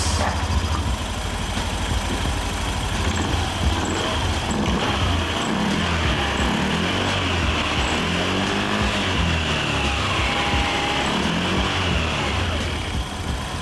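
A Honda Vario scooter engine fitted with a custom 13.8-degree pulley runs steadily, a close, loud mid-pitched drone that holds fairly even with slight pitch rises as the throttle is worked, no speech.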